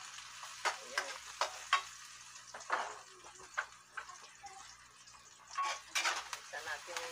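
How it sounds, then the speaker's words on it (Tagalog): Chopped onions sauté in a pan for crab cooked in coconut milk, a soft continuous sizzle broken by repeated scraping stirs of a spatula, close but fairly quiet. "Igisa natin yung sibuyas. Haluin na lang natin ang haluin hanggat sa lalambot siya at mag-brown siya konti."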